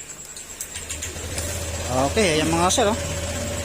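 A Honda CL motorcycle engine fires up and settles into a steady, close mid-pitched idle, with a brief rev partway through while someone talks over it.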